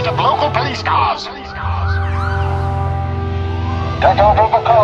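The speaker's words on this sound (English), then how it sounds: "Soba Doom was intercepted by a fleet of local police cars." Police car sirens from a fleet of local police cars wail loudly through the clip, their rising and falling tones layered over a steady low rumble, with a brief break near the middle.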